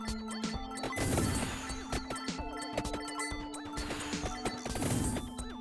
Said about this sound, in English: another cross explosion